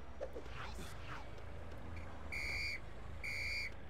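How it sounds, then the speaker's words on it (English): A character in the Lego City video game gives two sharp, steady whistle blasts, each lasting about half a second, over game background noise and talk. "I want to see me whistle."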